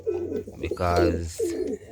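Capuchine pigeons coo in a breeding loft in Jamaica, soft low rolling coos repeating in short bursts close by while someone talks over them.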